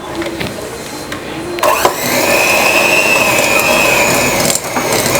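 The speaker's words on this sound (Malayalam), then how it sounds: "ഒന്ന് ലോ സ്പീഡിലിട്ടിട്ട് ആദ്യം ചെറുതായിട്ടൊന്ന് ബീറ്റ് ചെയ്തെടുക്കാം." An electric hand mixer whirs steadily at low speed, beating cream cheese for a cake frosting; the loud, continuous motor drone starts after a brief quieter moment and runs to the end.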